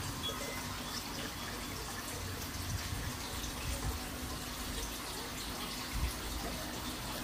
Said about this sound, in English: So I have water coming in.